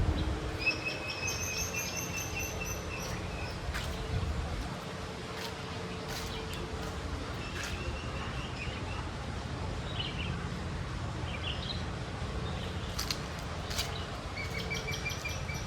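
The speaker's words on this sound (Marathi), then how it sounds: "या ठिकाणी झाडं झुडपं असल्यामुळं पक्ष्यांचा याचा आवाज कसा येतोय बघा." Scattered bird chirps and short calls ring out over a steady low outdoor hum, several birds calling intermittently at moderate distance among trees and bushes by a Shiva temple.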